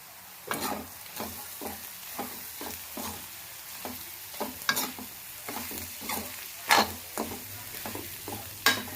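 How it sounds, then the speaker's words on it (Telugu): Spices frying in oil in a pan for egg bhurji, with repeated stirring scrapes and bright clattering strokes over a steady low sizzle, no voices. "సో ఆయిల్ని రెడ్డిష్ కలర్లోకి వచ్చేదాకా ఫ్రై చేసుకోండి"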